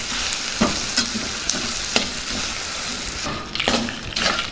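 Ginger pieces, dried red chillies, tamarind and jaggery sizzle in a pan while a spoon stirs them, with a steady fry hiss broken by several sharp scrapes and clacks spread through the stretch.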